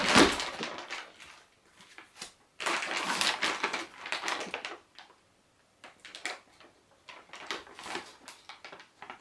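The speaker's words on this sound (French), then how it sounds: "je vais ouvrir le paquet de pièces" A package of coins, 50-cent and 10-cent pieces, being torn open up close: crinkly bursts of rustling and tearing, then scattered lighter crackles and clicks, with no voices.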